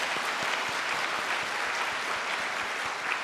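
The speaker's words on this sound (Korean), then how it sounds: "다시 한 번 더 큰 박수로 인사하도록 하겠습니다" A church congregation applauds at a service, steady dense clapping sustained throughout at a loud, even level with no talk over it.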